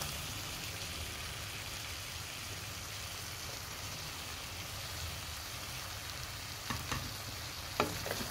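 Cooked millet noodles being stirred in a frying pan, giving a steady soft sizzle and scraping that runs throughout, with a few sharper clinks of the utensil near the end.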